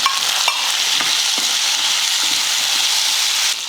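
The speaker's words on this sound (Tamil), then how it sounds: "தக்காளி சாஃப்ட் ஆகிற வரைக்கும் வதக்கிக்கலாம்" Tomatoes sizzle steadily in a hot pan with onions, garlic and green chillies for a chutney, a dense continuous frying hiss with a few soft stirring clicks throughout.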